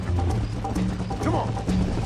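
A horse galloping in the western video game Red Dead Redemption, with steady, close, rhythmic hoofbeats throughout and faint background game sounds.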